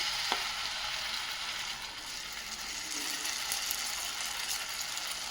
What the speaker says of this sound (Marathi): थोडं थोडं बॅटर घालून घ्यायचं मध्यभागी